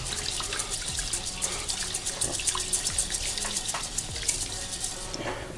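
Sushi rice being rinsed and stirred by hand in water, a continuous close sloshing and trickling with soft rhythmic swishes throughout.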